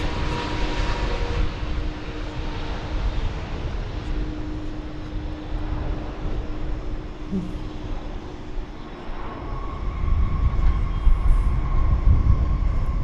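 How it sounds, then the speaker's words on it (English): A jet airliner on approach to land at DFW Airport, a steady broadband engine roar with a low rumble that holds for the whole stretch and swells louder toward the end, no voices over it. "I then heard the sound of this plane coming in."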